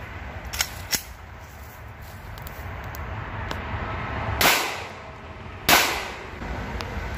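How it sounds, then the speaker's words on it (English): Two 9mm rounds of PMC Bronze 115-grain ammunition fired from a Glock 17 pistol into a book outdoors, two sharp loud cracks about a second apart following a few faint clicks. "I'm gonna shoot two rounds at it using PMC bronze, 115 grain."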